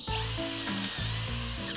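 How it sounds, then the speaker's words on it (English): A power drill with a depth-limiting bit bores holes about an inch deep into logs for shiitake and oyster mushroom spawn. It makes a high, close whine in short, repeated bursts as the bit goes in and out. "Steve has a specific drill bit for this that only allows him to go about 1 inch or so deep"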